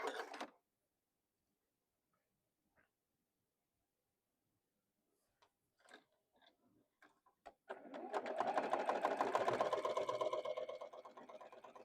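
Near silence with a few handling clicks and taps gives way to a sewing machine stitching quilt blocks for Tula Pink modern quilt designs, a fast, steady, moderately loud motor whir lasting several seconds.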